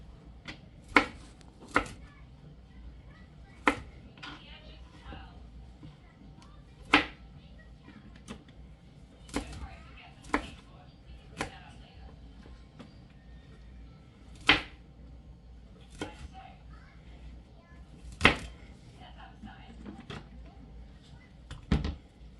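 A knife cutting vegetable florets into bite-size pieces on a board, sharp single chops spaced irregularly over a soft room background, near and fairly faint.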